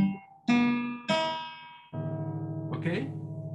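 Open strings of a guitar retuned to a microtonal neutral scale, plucked in three ringing strikes that decay slowly, then a sustained chord with a brief higher sound near the end, close and clear with no talk.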